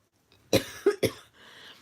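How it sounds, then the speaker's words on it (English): Three sharp coughs in quick succession from a single person indoors, close and fairly loud, followed by a faint breathy tail and quiet room. "sorry for the coughing"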